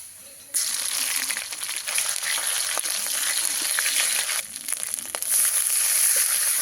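Ginger-garlic paste hits softened chopped onions in a hot oiled pan, sizzling steadily and loudly with a sharp surge after a quiet start, crackling close up with scraping stirs and no voices.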